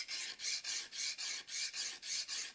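A blade edge is honed with light forward and back strokes, giving about nine steady rasping swipes in an even rhythm, close and alone with no talk.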